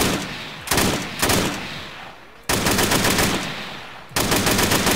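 Kalashnikov AK rifle gunfire in the video game Arma III comes as several loud, close bursts of rapid automatic fire separated by short pauses, with no voices.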